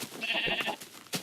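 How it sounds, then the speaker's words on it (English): Bleating of a sheep in Minecraft, one short wavering call near and clear, followed by a brief soft thump, with no talking over it. "now this sheep over here, I can show you"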